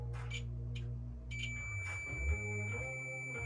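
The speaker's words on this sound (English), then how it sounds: "let's just go to a beep setting" Multimeter set to its beep setting testing continuity on a high-voltage transformer, giving a steady electronic tone that starts partway through and holds at close range over a low mains hum.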